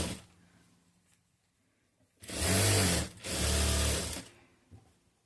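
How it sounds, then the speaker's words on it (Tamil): A sewing machine stitches a folded blouse strip in two loud, close bursts of about a second each, separated by a brief pause, with quiet handling before and after. "சும்மா கீழே வந்துட்டு ஃபோல்ட் பண்ணி அடித்து வச்சுக்கிறேன்."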